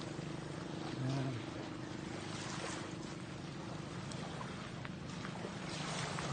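Boat on the sea at a beach resort in Concepcion, Iloilo, with a steady broadband wash of wind and water and a low motor hum running throughout, fairly faint and even.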